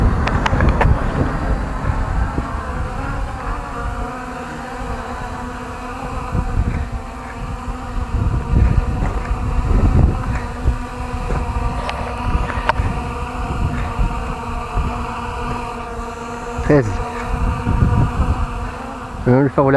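An MJX Bugs 5W quadcopter drone flies outdoors in wind, its rotors giving a loud, continuous buzzing whine with shifting pitch as it maneuvers, heard close to the microphone with wind rumble and a few faint words underneath.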